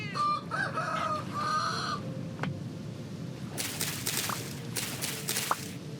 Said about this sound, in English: Sounds like we might have a rooster down in the hole.